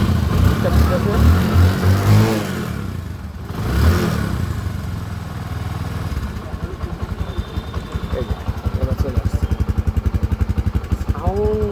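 A Bajaj Discover 125 motorcycle engine idles and revs with a steady low pulsing throb, louder toward the end, after a stretch of mixed noise and voices.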